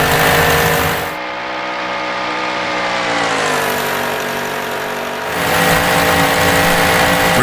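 The engine of the 1927 Dick Seaman Special racing car in the video game Assetto Corsa revs high and loud. It dips briefly through a gear change, then climbs steadily and roars back up to high RPM.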